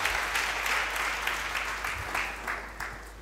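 A church congregation claps to acclaim the Lord, a steady wash of applause from many hands with a low hum underneath.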